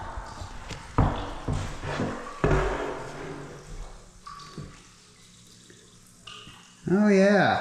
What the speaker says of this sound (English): Oh yeah, so if it's blowing bubbles, it's moving water.